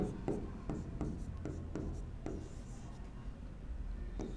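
Pen or chalk writing during a physics lesson on Ohm's law, quiet scratchy strokes in a regular rhythm of short taps and scrapes, close and soft.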